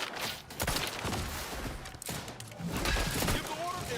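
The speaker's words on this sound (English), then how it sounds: "Don't just shoot in the thin air!" Gunfire in the video game The Outer Worlds 2 as a dense, continuous fusillade of shots and impacts, loud and busy, with game voices mixed in.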